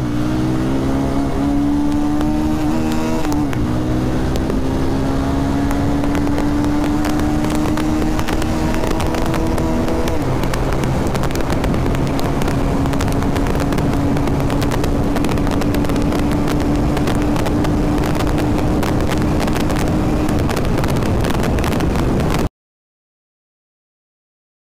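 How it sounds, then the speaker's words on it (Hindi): Bajaj Pulsar 220 BS6 motorcycle ridden at speed with a passenger, its engine note climbing through gears in a steady rising drone, heavy wind buffeting throughout and the engine close and loud. "सो अभी गाड़ी भगा के देखते हैं कि गाड़ी में BS6 में पावर कैसा है"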